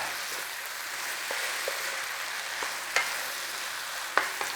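Sauce is stirred through a sizzling black pepper beef stir fry in a hot pan, a steady frying hiss with a few sharp scrapes and clinks of the utensil, close and without talk.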